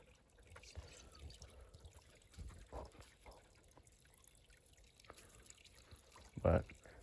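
Faint water trickles steadily through a quiet canyon, with a few short, louder bursts of other sound rising above the flow.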